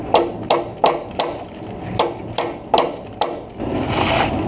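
A punch is hammered to drive a broken bolt out of the exhaust manifold on a 1977 Ford Thunderbird, eight sharp metallic strikes in an uneven rhythm, close and loud, followed by a softer rasping scrape.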